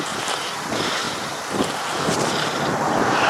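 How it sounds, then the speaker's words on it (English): Strong wind blows outdoors during a snowstorm, a loud, continuous gusting roar buffeting the microphone with rising and falling surges and no voices. "It is so windy, and the snow is just blowing."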